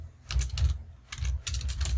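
Typing on a computer keyboard, close and clear, with quick bursts of key clicks in an uneven rhythm and short pauses between them, and no voice over it.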